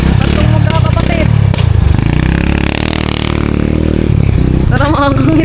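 A motorcycle engine runs and clatters close by, a steady rumbling drone heard under people talking and calling out.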